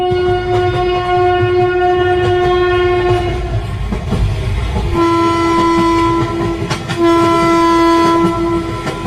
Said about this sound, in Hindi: तभी इन लोगों को ट्रेन की आवाज सुनाई देती है। लगता है इन लोगों की ट्रेन आ गई।